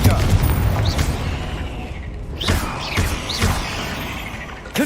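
Confringo fire blast spells cast in Hogwarts Legacy, several booming impacts with whooshing, rising streaks, landing in quick succession over ongoing rumble, with a voice speaking among them.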